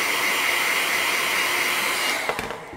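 A heat blower roars steadily at close range, blasting hot air onto a gummy cola bottle mold, then cuts off with a few faint handling clicks at the end.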